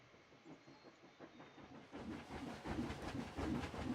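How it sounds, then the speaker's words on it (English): A train rumbles past with a rhythmic clatter, starting quiet and swelling louder as it nears. "Just gonna watch the train go by."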